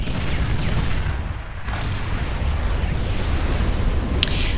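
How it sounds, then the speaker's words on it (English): A commander unit blowing up in the strategy game Supreme Commander, a broad, sustained rumbling roar with a brief dip midway and a sharp crack near the end, with no talk over it. "it's basically just an ACU going off"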